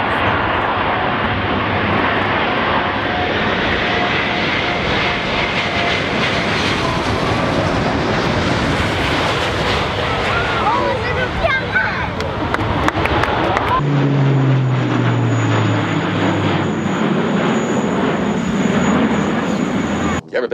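Airplane engine droning steadily during flight, a loud continuous roar heard from inside the aircraft at an airshow, with brief speech and a shift in tone partway through.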